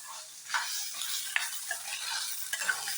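Peas frying and being stirred in a pan, a soft steady sizzle with a few light scrapes and taps of the spoon, close but fairly quiet, with no one speaking.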